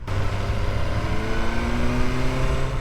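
A 2024 BMW S1000R motorcycle engine pulls at moderate revs, a smooth, continuous droning note with a gradually climbing pitch, heard up close and alone.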